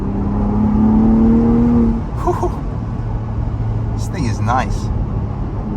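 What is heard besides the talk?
2023 Ford Bronco Raptor engine revving, rev-match downshifts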